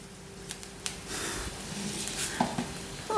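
Fenugreek seeds fry in hot oil for a tender mango pickle, a soft continuous sizzle with light stirring scrapes and a few small clicks close by.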